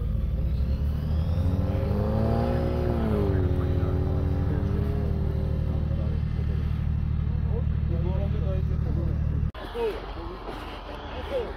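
An off-road car engine drones loud and continuous, rising in pitch as it strains uphill on rough terrain, while people talk over it; the engine note drops away sharply near the end.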